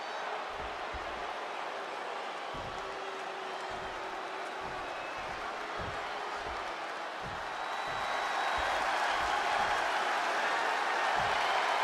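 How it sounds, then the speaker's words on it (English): Applause and cheering from a wrestling arena crowd in the WWE 2K26 video game swell as a continuous distant roar, growing louder in the second half, with occasional soft low thumps beneath. "The crowd on their feet."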